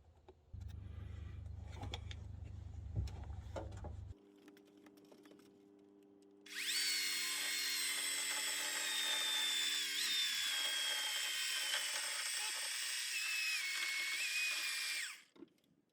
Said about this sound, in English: I'm going to try to cut those notches with a chainsaw.